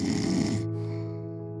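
Snoring: one loud, rough, rattling snore with a deep buzzing tone, close and alone, cutting off midway into a softer lingering hum.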